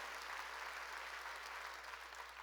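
A church congregation bursts into steady applause during a Sunday worship service, a dense, even wash of clapping that holds at full strength for the whole stretch, with no voices standing out.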